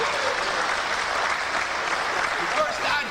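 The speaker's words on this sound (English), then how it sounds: "We applaud you." Audience applause during a lecture, a sustained wash of crowd clapping with voices mixed underneath.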